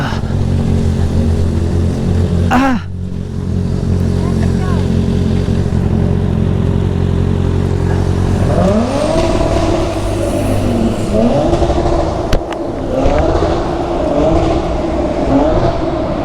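A Lexus car passes at speed inside Kaybiang Tunnel, its loud engine roar rising and sweeping through the enclosed space with a rushing pass-by over steady road and wind noise, no talk.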